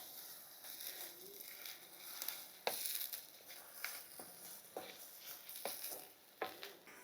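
Salted onion pieces sauté quietly in a pan for a vegetarian curry. A low sizzle runs under scattered scraping stirs and light knocks from a utensil.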